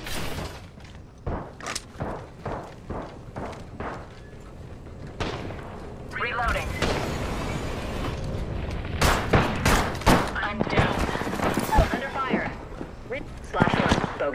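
Rapid gunfire bursts and booms from a squad-based video game firefight, repeated sharp shots with heavy low thuds building into dense continuous fire, with speech over the action.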